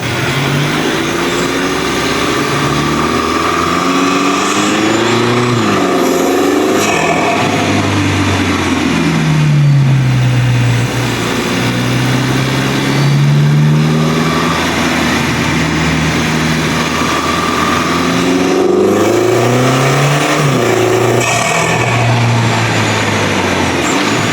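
An Audi's engine intake roars under hard acceleration, rising and falling through several long revving pulls, loud and close throughout with no talking.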